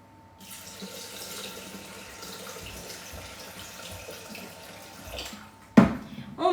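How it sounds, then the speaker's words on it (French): Water from a tap runs steadily into a Thermomix bowl over eggs, a continuous rushing pour that stops abruptly, followed by a louder knock or clatter. "je vais les recouvrir d'eau. Je mets de l'eau."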